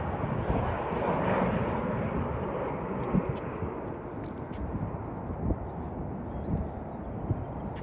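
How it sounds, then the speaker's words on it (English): A plane comes in to land near Sky Harbor airport in Phoenix, Arizona, heard from the outdoor grounds of the Pueblo Grande museum as a steady, broad jet roar. It holds throughout with a little wind on the microphone. "You can see there's a plane landing"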